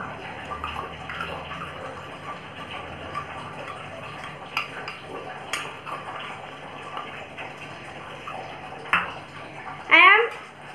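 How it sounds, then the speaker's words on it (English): A spoon stirs a salt solution in a bowl, giving light clinks and scraping against the bowl under a roomy background hum, with a sharper ringing ping near the end. "stirring the solution."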